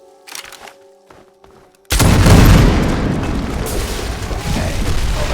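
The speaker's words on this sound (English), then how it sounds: "It looks like an explosion should do the trick." A sudden heavy explosion in Fallout 3 seals off a hole. It bursts in after a few quiet taps and rolls on as a loud, sustained rumble with no speech.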